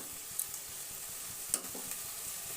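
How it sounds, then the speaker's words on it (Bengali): Green peas sautéed with salt in a pan, stirred with a spatula: steady soft sizzle throughout with a few sharp utensil scrapes against the pan, close and alone. "দিয়ে দিলাম পরিমাণ মতো লবণ। দিয়ে মিশিয়ে নিলাম।"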